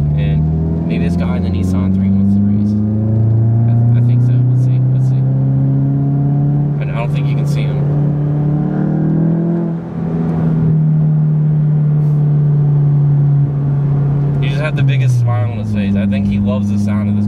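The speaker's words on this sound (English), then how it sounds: "the muffler delete makes this car sound so good" Volkswagen GTI with its muffler deleted accelerating hard, a loud continuous engine drone that climbs in pitch and holds steady for most of the run, then drops as the revs fall near the end, with a person talking over it.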